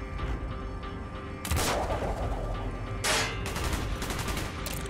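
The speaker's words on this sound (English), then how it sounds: "Gunfire's drawing attention." Gunfire rattles through a Call of Duty: Black Ops battle in sustained bursts of automatic shots, and loud blasts punch through a dense, continuous combat din.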